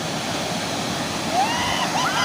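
Water pouring down a small waterfall, a steady close rushing splash with faint higher whistle-like sounds near the end, no talking.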